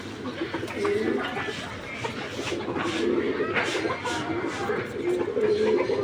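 Giribaz high-flyer pigeons, a rare-coloured flying breed, coo in low rumbling bursts close by while people talk over them.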